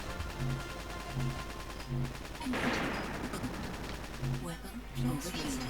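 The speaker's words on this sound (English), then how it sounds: "we have to fire a bit more." Weapon fire rings out in the Battle Engine Aquila game on PC: repeated bursts of shots over a steady mechanical hum and game music, with a loud blast near the middle and talk running over it.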